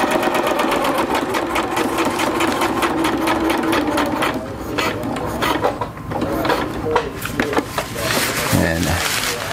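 A sewing machine stitching through thick, layered silnylon tarp corners with extra backing, a rapid mechanical chatter in bursts that slows and stutters at times, with a person talking over it.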